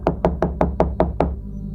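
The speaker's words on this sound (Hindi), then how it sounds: "जल्दी जाकर दरवाजा खटखटाया।" Seven evenly spaced knocks on an old wooden door at night, firm and close, each a dull hollow thud, then quiet.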